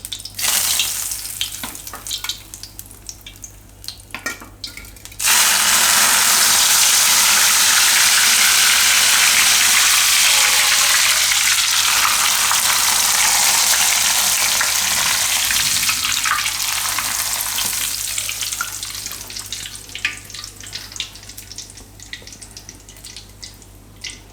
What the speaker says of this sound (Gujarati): હવે તેલ ગરમ જ છે એટલે હવે આપણે એમાં નાખી દેવું આ લીલા ધાણા